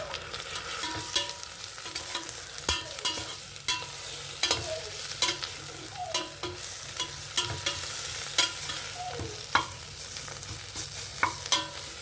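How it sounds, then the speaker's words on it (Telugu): Ginger garlic paste fries with onions, chilli powder, masala and turmeric in a pan, a constant close sizzle punctuated by frequent sharp spoon clinks and scrapes from stirring, with no voices. "ఇప్పుడు అల్లం వెల్లుల్లి పేస్ట్ వేస్తాను"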